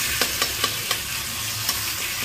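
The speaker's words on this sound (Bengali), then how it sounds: "মশলাটা আগলা করে একটু নাড়িয়ে দেবো" Spice masala frying in oil in a pan sizzles steadily while a utensil stirs it, giving several soft scraping taps at an irregular rhythm, close up.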